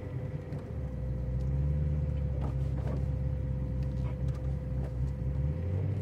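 Steady low engine rumble from a 2007 Porsche Carrera with an LS engine rolling slowly over a speed bump, the drone holding constant inside the cabin with faint knocks and creaks over the bump.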